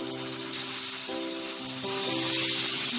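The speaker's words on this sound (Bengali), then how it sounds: "মশলাটাকে ভালো করে কষিয়ে নেব" Masala spices for paneer masala frying in a pan with a little added water, giving a steady soft sizzle and hiss that grows slightly louder toward the end.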